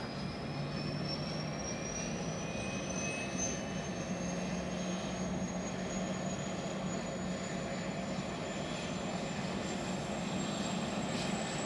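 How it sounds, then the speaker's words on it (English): A C-17 military transport aircraft's engines run up in a steady, broad roar with a slowly rising whine, continuous and moderately distant, with no talk over it. "The engine's starting up."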